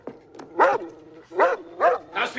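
A dog barks five times in quick succession, loud and close, in a tense police confrontation scene from the crime drama NYPD Blue. The barks are harsh and carry a slight whine, with no clear speech over them.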